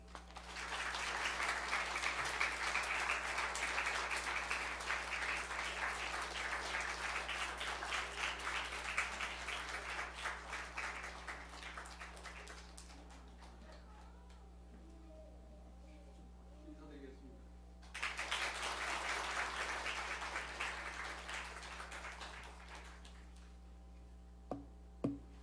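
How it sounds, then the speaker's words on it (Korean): Church audience at a parents' seminar claps loudly to welcome a pastor: a long, dense burst of applause, then a quieter stretch with talking, then a second strong wave of clapping. "권기현 목사님 나오실 때 큰 박수로 맞아주시기 바랍니다"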